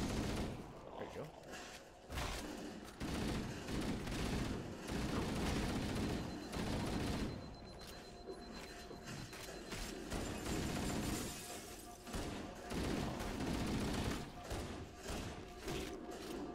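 Gunfire in the Halo video game crackles in rapid bursts and volleys, loud and dense throughout with thumps and mechanical clatter, while players talk over it.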